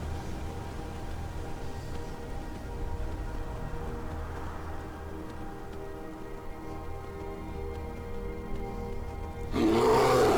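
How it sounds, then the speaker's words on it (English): A bear roars in the video game Skyrim, a sustained low growling roar over steady game ambience, swelling louder and harsher near the end. "Oh, bear!"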